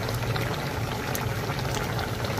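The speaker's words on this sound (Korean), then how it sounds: "고등어 다 쫄아가요" Mackerel braised with radish simmers down in a pot on a home gas stove, giving a steady, dense bubbling hiss that continues evenly throughout.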